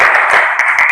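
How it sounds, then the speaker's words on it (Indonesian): Students in a classroom clap after group presentations, a brief burst of loud, close, dense applause lasting about a second. "mari kita berikan tepuk tangan yang meriah"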